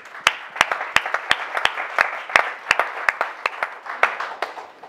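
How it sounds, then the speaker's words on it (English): Audience applause at a Stanford event on African entrepreneurship and investment, a close, dense run of sharp individual claps with no voices. "So please give them a big round of applause."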